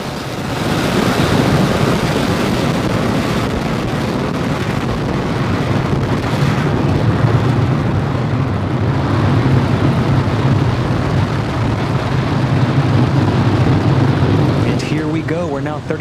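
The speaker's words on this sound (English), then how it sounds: "We're now 30 seconds into flight on the Falcon 9. All engines are running at full power." Falcon 9 rocket engines at full power in the Spaceflight Simulator game, a loud, steady roaring rumble filling the whole clip without pause.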